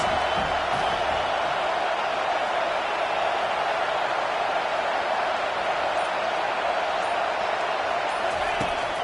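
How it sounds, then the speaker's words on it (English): A packed football stadium crowd roars steadily during a fourth-down play in a UNC versus Iowa game, a dense, unbroken wall of noise that stays loud throughout. "this crowd is making it miserable on this offense"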